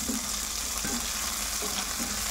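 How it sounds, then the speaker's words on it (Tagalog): Bean sprouts frying in hot oil give a steady close sizzle with scattered crackling splatters throughout, and no one speaks. "Sakit naman ang kilamsik."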